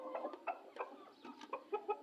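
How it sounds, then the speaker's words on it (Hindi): A hen sitting in a yard gives a run of soft, quick clucks in short uneven bursts, fairly close and fairly quiet. "ये हमारी मुर्गी बैठी है"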